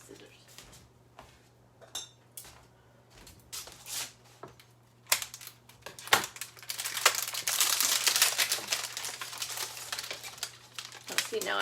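Crinkling and crumpling of aluminium foil lining a baking sheet, starting sparse and growing into a steady, loud rustle with some clatter of kitchenware and a low hum underneath.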